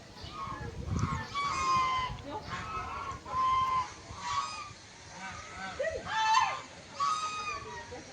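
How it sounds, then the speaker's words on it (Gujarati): Ducks behind a temple quack and honk repeatedly in an uneven series of calls at moderate distance, with people talking over them outdoors. "અહીંયા જો બતક છે."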